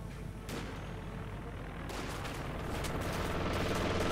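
Strafing-run gunfire from an aircraft in the Company of Heroes 2 World War II strategy game, a dense, continuous roar of rapid shots and blasts that grows louder toward the end.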